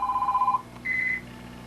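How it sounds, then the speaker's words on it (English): A telephone rings nearby in a workshop with two short electronic warbling bursts, the second pitched higher, each lasting under half a second over a low background hum. "Let me get the phone."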